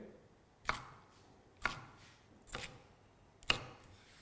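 Four crisp knife chops through flat beans land on a cutting board, spaced about a second apart, close and clear in an otherwise quiet room.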